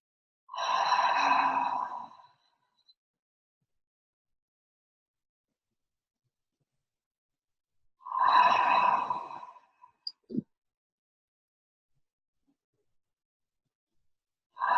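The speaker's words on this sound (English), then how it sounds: "take 3 breaths, ha breaths, which is into the count of 2, out the count of 4" Two slow, audible exhales with a soft breathy "ha" quality, each about two seconds long and separated by quiet. A few faint clicks follow the second breath, and a third exhale begins at the very end.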